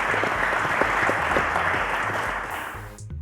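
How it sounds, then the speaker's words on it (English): A studio audience at a televised school quiz show claps steadily for about three seconds before the applause fades and cuts off. "let's give a round of applause to Atoh and Akinloluwa"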